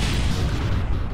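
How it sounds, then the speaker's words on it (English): A loud, sustained rumbling explosion blast from a spacecraft landing in the Kerbal Space Program video game, with broad roaring noise filling the whole moment. "Explosion!"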